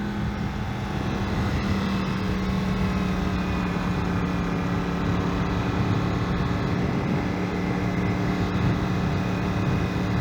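A Yamaha MT-10 motorcycle on the move, its engine a steady, loud drone blended with constant wind roar, holding an even pitch throughout with no one speaking.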